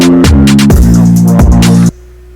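A beat intro built from chopped, pitched vocal samples, with loud pulsing bass and stacked tonal layers hitting in repeating phrases, then cutting off abruptly to near silence.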